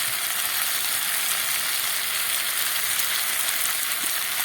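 Potol (pointed gourd) and potato curry with turmeric and salt fries in a pan for a Bengali vegetarian dish, giving a steady, unbroken sizzling hiss that stays even throughout with no voices.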